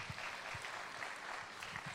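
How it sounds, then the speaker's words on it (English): Comedy show crowd in London gives a round of applause, a soft, distant-sounding steady wash of clapping lasting about two seconds. "let's have a round of applause for Sarah Everard right now"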